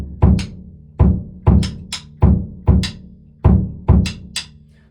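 A funky drum groove, with a syncopated bass drum ostinato under a sharp double-clap backbeat, repeating steadily and played close and loud, with no talking.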